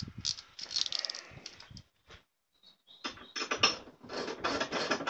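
Ratchet with a 17mm socket tightening tow bar bolts into the factory mounting points on a BMW E39, giving bursts of close, dry clicking with a brief pause midway, no talk over it.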